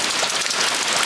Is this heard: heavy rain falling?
yes